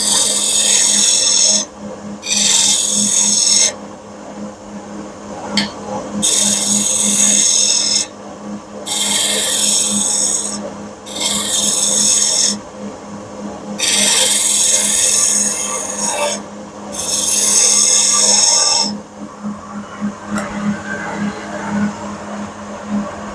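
A skew chisel cuts wood on a lathe in repeated bright, hissing bursts of shaving, separated by short pauses, over a steady low hum of the spinning machine.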